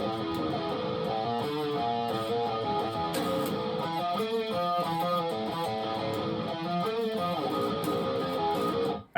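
A guitar plays a riff from the middle section of a song at a slightly quicker tempo, a steady, loud run of picked notes lasting several seconds with no voices.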